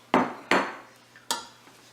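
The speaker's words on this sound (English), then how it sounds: "you just want to stir from the bottom up" Angel hair pasta with mushrooms, spinach and sausage stirred in a pan, heard as three sharp, close metallic knocks and scrapes of a utensil against the pan in a short quiet span.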